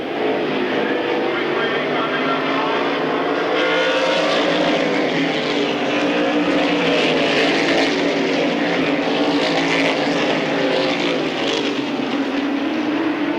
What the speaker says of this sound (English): Glenn Wright moving around the outside of Robin Wood. And Glenn Wright is quick